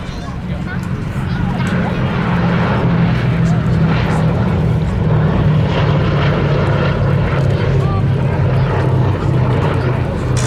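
Loud, droning propeller engines of a Boeing B-17G throb steadily throughout during an air show display at Duxford, with a low rhythmic beat and no break in the noise.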